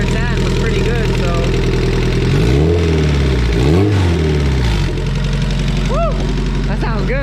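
A turbocharged Honda B20 engine in a hatchback idles loudly up close, then revs sharply twice with rising and falling sweeps before settling back to a steady idle.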